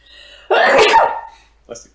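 A single sharp sneeze bursts out close by, followed by a brief breathy sound and then quiet.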